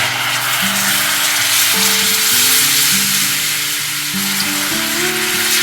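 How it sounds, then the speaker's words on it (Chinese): Enchilada sauce in a hot pan over medium heat sizzles steadily as plain water is poured in a little at a time, the frying hiss running continuously beneath background music. "我现在开始加，就是清水哈，2杯"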